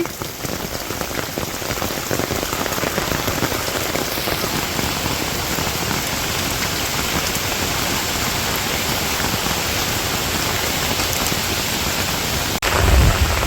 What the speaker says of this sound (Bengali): এই যে এই পাশ দিয়ে ভালো বৃষ্টি নামতেছে